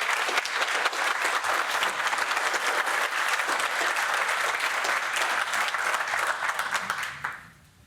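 Australian audience applauding steadily at a public gathering, dense sustained clapping from many hands that fades out near the end.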